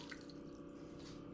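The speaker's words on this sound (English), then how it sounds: "into this pot I'm going to add 1 cup of water" A cup of water is poured into the inner pot of an electric pressure cooker for boiling eggs. The steady, faint splashing trickle runs continuously throughout with no talk.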